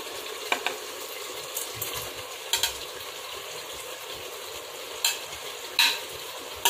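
Tomatoes and green chillies are stirred into cooking mutton, with a soft sizzle under the scraping and clinking of a spoon against the pot, several sharper clicks at intervals.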